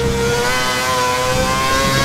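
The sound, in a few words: Formula 1 car engine driving into pit box, F1 2011 video game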